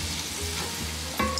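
Beer poured into a gumbo roux in a pot for Louisiana seafood gumbo makes a steady, loud sizzle and bubbling with a low hum beneath it, then a sharper burst just before the end.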